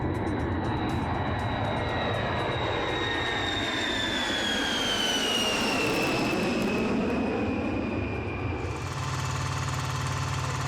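Jet aircraft roar overhead, a loud sustained rumble with a whine sliding downward in pitch as it passes, shifting tone near the end.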